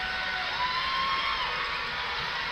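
A hometown basketball crowd roars during a free throw at an NBL Canada playoff game between London Lightning and Windsor Express, a sustained, fairly distant wall of noise with a thin whistle-like tone rising above it.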